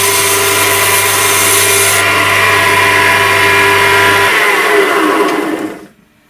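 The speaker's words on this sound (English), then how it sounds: "So I have to go onto my little belt grinder here," A small bench belt grinder grinds the ends of screws for a K40 laser cutter upgrade kit, a loud continuous whirring abrasive roar held for several seconds before winding down quickly to silence.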